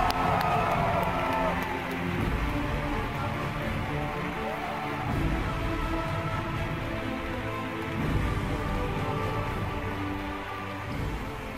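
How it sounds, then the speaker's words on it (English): A large audience at the Pokémon Worlds 2015 closing ceremony applauds and cheers for volunteers, a sustained roar of clapping and cheering that holds steady throughout. "That's only a fraction of the applause they deserve."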